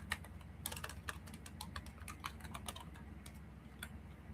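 Quick clusters of key clicks on a computer keyboard as a name is typed, soft and close, with brief pauses between bursts over a faint background hum.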